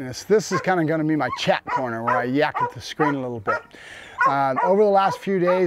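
An excited working dog whines and yips in the background, wanting to come out and work, while a person talks steadily and close up over it.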